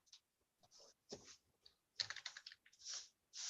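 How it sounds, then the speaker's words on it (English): Rapid typing on a computer keyboard, bursts of quick key clicks separated by short pauses, close and fairly quiet, with no talking. "Boy, you be typing fast, Brandon."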